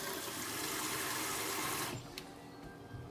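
A kitchen tap pours water into a filling sink for dishwashing, a steady close rush that cuts off abruptly partway through, leaving a quiet room with a few small drips and clinks.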